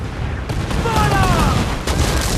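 Pirate ship cannons blast in a naval battle in Assassin's Creed Black Flag, a rapid fusillade of booms with shouted crew voices mixed in, loud and close.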